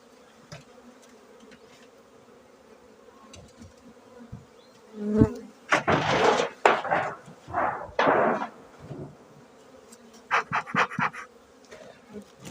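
Bees buzz close by at a hive in winter, on their cleansing flight, in irregular bursts, some loud and droning, against a quiet background with occasional faint knocks.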